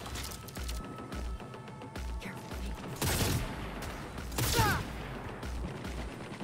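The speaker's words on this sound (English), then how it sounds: "Oh, she shot the turrets out." Gunfire from shooting out turrets in Cyberpunk 2077: two bursts of rapid shots with metallic impacts over a steady game soundtrack, fairly faint, without talk.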